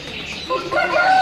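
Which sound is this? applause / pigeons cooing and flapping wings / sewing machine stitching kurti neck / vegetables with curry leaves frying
pigeons cooing and flapping wings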